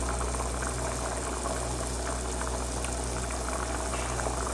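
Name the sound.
water boiling in a pot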